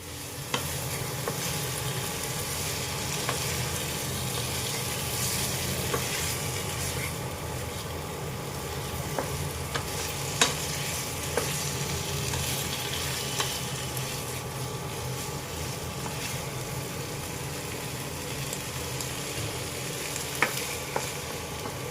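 Steady sizzling of soybean chunks and boiled potato sautéing in a pan, with occasional clinks and scrapes of stirring, close by and continuous, no talking.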